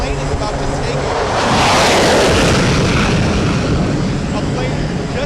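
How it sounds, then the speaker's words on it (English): A jet plane launches from the flight deck of the aircraft carrier USS Ronald Reagan, a loud roaring rush that swells to a peak and then holds as a broad, sustained thunder close by, with a voice talking over it. "A plane just took off behind me, and you can hear it. It's really loud."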